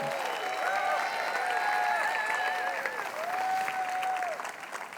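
A congregation at a Quebec gathering applauding, a fairly faint, steady wash of clapping with whoops and cheering voices of encouragement riding over it.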